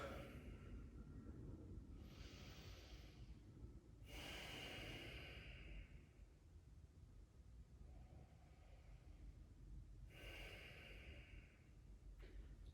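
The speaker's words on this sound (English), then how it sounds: "Another 5 breaths." Slow, deep breathing during a yoga bridge pose on a mat: soft inhales and exhales spaced a few seconds apart, close and quiet, with no talking.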